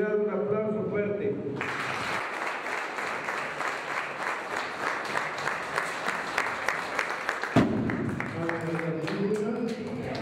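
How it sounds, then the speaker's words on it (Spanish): A community gathering at a religious image blessing breaks into loud, sustained applause lasting several seconds, with talk heard before and after the clapping. "Pues los mayordomos y la comunidad, un aplauso fuerte."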